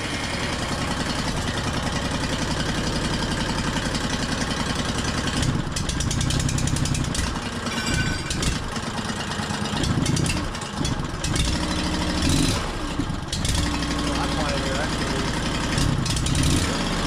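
A double drum roller's engine idles steadily throughout, a continuous mid-pitched running drone with some clanking and shifting noise over it, close by.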